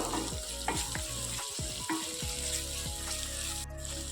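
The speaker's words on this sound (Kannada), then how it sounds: "ಇದು ಒಂದು ಸ್ಪೂನ್ ಶುಂಠಿ ಬೆಳ್ಳುಳ್ಳಿ ಪೇಸ್ಟ್ ಹಾಕೋಬೇಕು ಇದನ್ನು ಹಸಿ ಸ್ಮೆಲ್ ಹೋಗೋ ತನಕ ಹುರ್ಕೋಬೇಕು" Ginger garlic paste fries in a pan with onions, a steady close sizzle broken by repeated scraping stirs of a spoon, with no voices.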